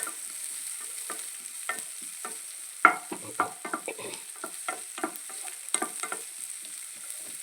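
Ginger and garlic fry in a pan with a light, steady sizzle, while repeated close spoon scrapes and taps against the pan come in a loose stirring rhythm.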